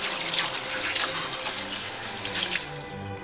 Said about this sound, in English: we remove the turkey from the brine and rinse it off